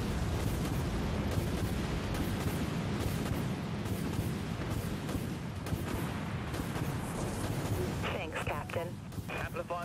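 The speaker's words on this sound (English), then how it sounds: "We've got torpedo lock, Captain. Launching torpedoes." A warship launches torpedoes in the naval combat game Dreadnought, giving continuous booming, rumbling weapon fire with dense low thuds and blasts, and brief electronic chirps near the end.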